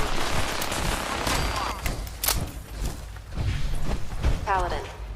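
Automatic weapon fire in the Fallout 4 video game comes in rapid bursts with thuds and booms, heard amid other game sounds while someone talks over it.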